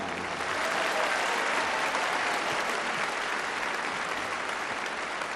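Audience applause at the Miss World 1976 beauty pageant, a dense, even wash of many hands clapping that holds steady throughout, fairly distant and without voices on top.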